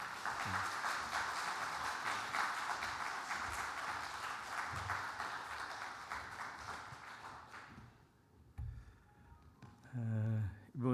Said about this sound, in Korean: 우리 목사님 나오실 때 우리 박수로 격려하도록 하겠습니다